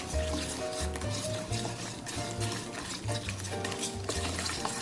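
A whisk stirs chili powder seasoning in a bowl while green onion kimchi is being made, giving rapid, repeated scraping and swishing strokes, close and fairly quiet, with no voice over them.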